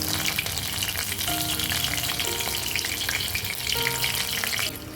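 Loud, steady sizzling and crackling of kalonji, mustard seeds and green chilies frying in hot oil in a kadhai, with occasional stirring scrapes throughout.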